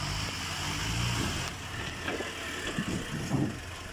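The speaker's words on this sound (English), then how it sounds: "Back wheels bouncing off the floor." A 4x4 on a Northumberland green lane, engine rumbling at low speed as the back wheels bounce off the ground, with irregular thumps and knocks over the drone.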